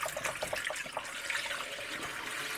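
Liquid pours steadily from a Colapz collapsible watering can into a drain, a continuous close splashing gurgle with no voices.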